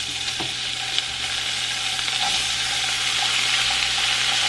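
Vegetables, including peppers, fry in olive oil in a pan, giving a loud, close, steady sizzle with a few light stirring knocks and no speech.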